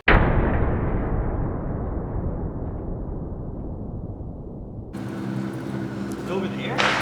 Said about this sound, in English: That was like a fucking stick of dynamite